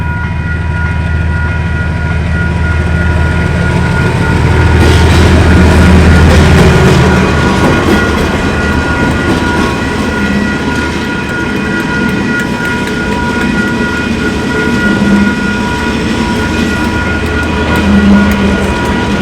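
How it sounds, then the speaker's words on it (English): A convoy of six diesel locomotives, led by a DXC class engine, leaves a yard with a steady rumble, deep engine drone and humming tones, wheels clattering as the long line rolls past nearby. "DXC 5379 led a convoy of 6 locomotives out of the yard as train 827W"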